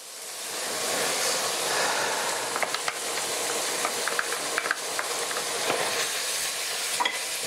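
Minced meat and chopped garlic sizzle steadily in a frying pan while being stirred, with a continuous hiss broken by light scraping clicks from the utensil.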